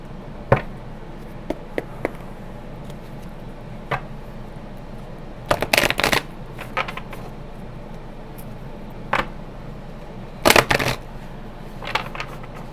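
A deck of oracle cards being handled and shuffled: faint scattered ticks, then two short bursts of riffling card noise close by, with no talking.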